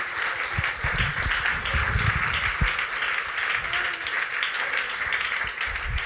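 A church congregation applauds steadily and loudly for several seconds during a French-language service, a dense wash of clapping with cheering voices mixed in.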